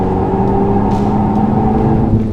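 On a racing circuit, a Renault Mégane 4 RS Trophy-R accelerates with a continuous, loud engine drone heard up close, steady and unbroken throughout.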